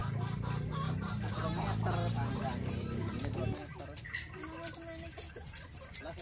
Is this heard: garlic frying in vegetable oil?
no